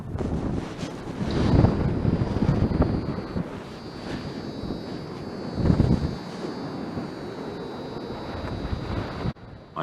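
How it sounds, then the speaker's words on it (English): Strong headwind buffeting a microphone while gliding toward a gravel landing strip near a building, a continuous rushing roar with louder gusts swelling at intervals and a steady faint whine underneath. "The headwind is stronger than I had planned."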